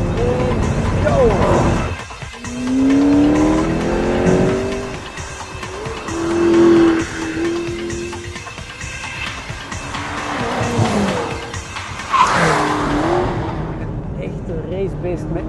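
A 2015 McLaren 650S Spyder race car at Zolder circuit, with traction control and ESP switched off, revs and accelerates hard in rising, loud engine sweeps with gear changes and tire squeal, with voices over it.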